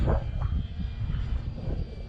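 Small E-flite Night Timber X radio-controlled plane flying outdoors in gusty wind, its electric motor giving a steady, moderately loud buzzing drone that holds throughout with slight wavering.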